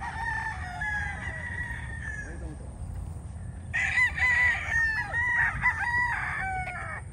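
Several young gamecock stags at a gamefarm crow in overlapping calls, a few birds clear and near, others farther off, with a denser burst of crowing midway against a low steady rumble of background noise.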